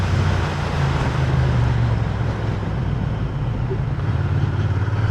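A Royal Enfield Interceptor 650 motorcycle slows under its rear brake, its engine a steady low rumble that eases slightly mid-way, with road and wind noise throughout and no talk.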